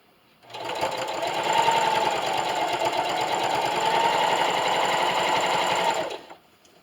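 A sewing machine stitches a baby bib in one continuous run of about six seconds, a fast steady mechanical whir close up, with no talk.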